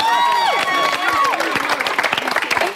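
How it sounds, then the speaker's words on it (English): A television studio audience breaks into loud, close applause with cheering and whoops, dense clapping continuing for a few seconds with a voice over it. "Round of applause."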